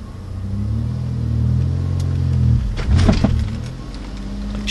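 A Ford Contour's engine idles roughly and shudders as if about to stall, then catches itself with a short burst as the revs climb. The loud, low rumble fills the whole stretch without talk.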